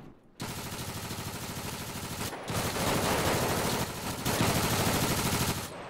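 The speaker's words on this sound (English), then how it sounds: "Machine gun sounds so good." Machine gun fire in GTA 5 roleplay rattles loud and continuous for several seconds, with a brief break and then dense bursts that sound like several guns firing together.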